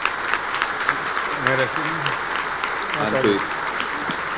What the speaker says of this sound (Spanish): creo que es oportuno que le demos una bienvenida con un gran aplauso